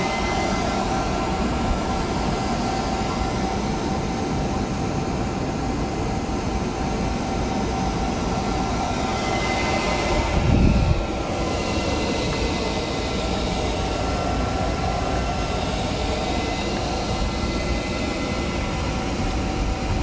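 A Tesla V3 250kW Supercharger for electric cars drones with a constant loud mechanical whir and hum, with a brief low whoosh or bump partway through, no voices over it.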